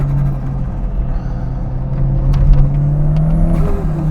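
A Toyota MR2 engine drones steadily on a race track, its note climbing toward the end as the driver downshifts; a close, continuous in-car roar with no talking.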